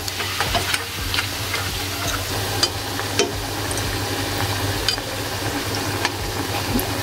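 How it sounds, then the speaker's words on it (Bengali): Pakon pitha rice cakes fry in oil over low heat, giving a steady close sizzle dotted with small pops and clicks, with no talk over it. "এই দেখো তেলে ভাজা হচ্ছে পিঠাগুলো"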